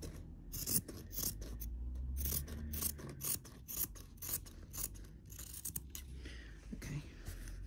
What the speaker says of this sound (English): And then I'll just cut that bit on the crease line.